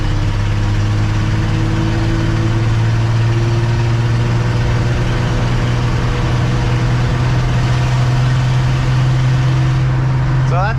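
A 1967 Ford F250 drives on the highway in fourth gear at roughly quarter to third throttle, its engine a loud, steady, low drone with no talking.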